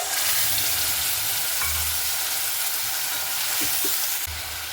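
Spice mix lands on onions already fried in a pan for a Bengali rui fish curry, setting off a loud, continuous sizzle and hiss with occasional soft scrapes from stirring, and no talking.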